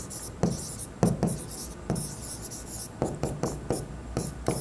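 Pen strokes scratch across paper while an accounting journal entry is worked out, in short repeated bursts of close, light scraping with brief pauses between strokes.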